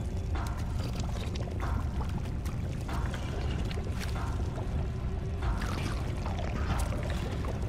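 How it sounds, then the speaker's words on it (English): Slime gushes and pours out of a burst pipe as a continuous, heavy, rushing liquid roar that fills the whole stretch at steady loudness. "Slime keeps pouring out of the pipe, filling the room."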